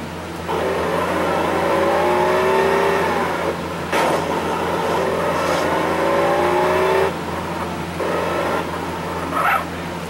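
A car in Grand Theft Auto San Andreas revs and accelerates loudly and close up, its engine pitch climbing in repeated sweeps between gear changes, with no voices.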